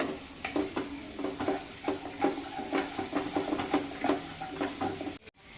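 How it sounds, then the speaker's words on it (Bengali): Onion, garlic and chilli fry with ginger-garlic paste in a pan, a steady close sizzle broken by repeated scraping stirs in an uneven rhythm, with no talking. "এবার আমি আদা রসুন একটুখানি বাটা দিলাম, আর দিয়ে এটাকে আরেকবার ভালো করে একটুখানি ভেজে নেব।"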